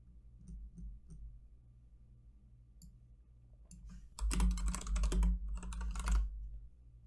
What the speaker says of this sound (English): Me typing in the song.